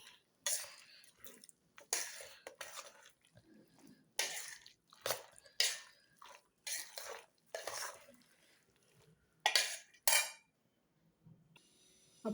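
A spoon scrapes and clinks in a pan while stirring mango pickle with mustard seeds, fenugreek and asafoetida, in short, irregular strokes against fairly quiet surroundings, with occasional voice sounds between.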